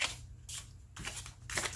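A small tarot card deck is shuffled by hand, giving three or four quick riffling bursts in a loose rhythm, close and fairly soft.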